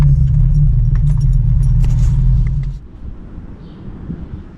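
A 2006 Honda S2000 AP2, just back from a test drive, rumbles close by with a steady low engine idle that cuts off abruptly partway through, leaving faint ambient noise.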